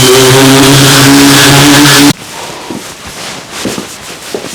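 Power sander working scrap wood pieces for a candle holder, a loud steady whirring roar for about two seconds that cuts off abruptly, leaving faint workshop knocks and rustles.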